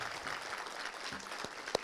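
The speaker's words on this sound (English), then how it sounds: "Let's give these amazing students a round of applause for all the work that they put in." Audience applause at a student celebration event, a steady patter of clapping from a seated crowd with a few louder claps near the end, fairly soft and distant.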